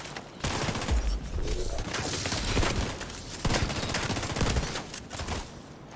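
Rapid gunshots and sustained automatic fire crack through a firefight in The Division 2, loud and continuous across the stretch with no talking.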